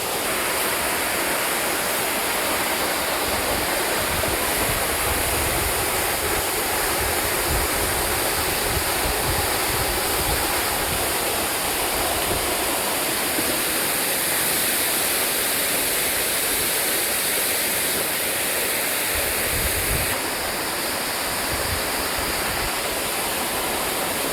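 A jungle waterfall roars in a steady, dense rush of falling water, loud and close, continuous and unbroken for the whole stretch, with no voices over it.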